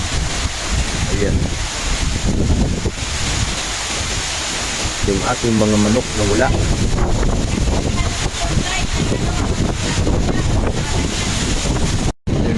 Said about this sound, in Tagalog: Grabing lakas ng hangin guys